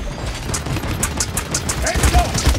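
Rapid gunfire bursts from the Paladins video game, tanking as Khan or Makoa at Splitstone Quarry, crackling in quick repeated volleys over dense game effects and low rumble throughout.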